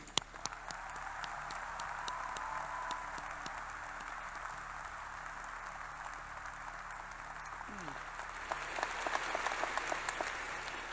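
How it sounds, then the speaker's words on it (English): A graduation ceremony audience applauds steadily for several seconds, the clapping swelling louder toward the end, with faint voices mixed in. "Please join me in a special round of applause for those people and their families."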